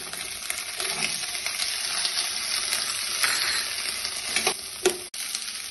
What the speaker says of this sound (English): Just fry it till it turns golden brown. Now I'm adding green peas.